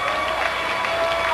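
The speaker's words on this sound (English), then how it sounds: "There's Trinity right there, getting the crowd fired up." Dense crowd noise at a wrestling event, a sustained roar of cheering and clapping filling the arena, close and steady with a commentator's voice faintly beneath.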